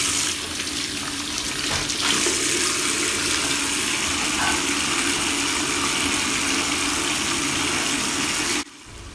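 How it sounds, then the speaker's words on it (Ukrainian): Tap water runs steadily while hands are washed at a sink, a loud continuous hissing splash that holds constant and then cuts off near the end, with no talk. "Найкраще мити із водою і з милом"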